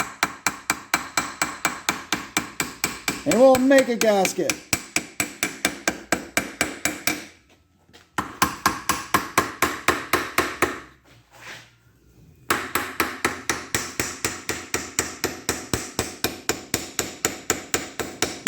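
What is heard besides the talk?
hammer tapping cereal box cardboard to cut an engine gasket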